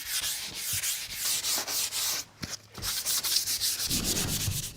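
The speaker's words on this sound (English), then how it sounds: "It's vital to give it a nice gentle sand, only with a very fine sandpaper or a sanding pad." Kitchen cupboard wood is sanded gently by hand with very fine sandpaper or a sanding pad, producing close, steady back-and-forth rasping strokes in a quick rhythm, broken by a short pause midway.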